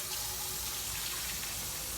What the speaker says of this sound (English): Make sure you always wash the rice.